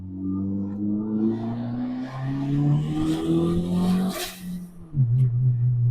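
A turbocharged Hyundai Getz engine revs hard on boost, a loud sustained drone climbing steadily in pitch before a brief lift and a fresh surge, heard close from inside the car with no talking.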